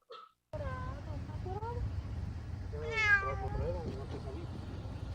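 A cat meows several times in a row from a played video, the rising and falling cries standing out clearly over steady background hum, with one louder cry near the middle.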